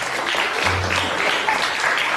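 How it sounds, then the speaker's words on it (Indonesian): An audience claps for Ananta after a performance dedicated to a teacher, producing a steady, fairly loud wash of applause that lasts throughout with no pauses. "Berikan tepuk tangan dong buat Ananta."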